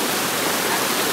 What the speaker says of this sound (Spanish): El arroyo está crecido, el arroyo de la Virgen.